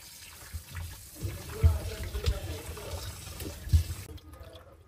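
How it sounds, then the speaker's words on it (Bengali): Water running and splashing in a sink while raw fish is rinsed of blood, with a few soft thumps of handling, then stopping near the end. "প্রথমে আমি মাছের রক্ত পানিটা ক্লিন করি।"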